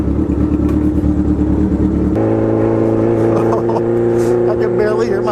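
A motorcycle fitted with a Danmoto XG-1 exhaust revs loudly and continuously up close, its deep throbbing note shifting pitch partway through as the engine climbs.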